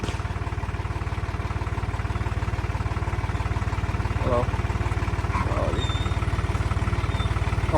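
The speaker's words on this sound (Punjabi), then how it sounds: "ਮੁੰਡਾ ਟਰੈਕਟਰ ਲੈ ਆਇਆ" A tractor engine idles steadily close by, a constant low, even chugging that runs unchanged from start to finish.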